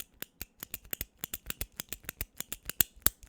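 A pen clicked over and over, about twenty sharp, dry clicks in a fairly steady but slightly uneven rhythm, close and crisp with no talking.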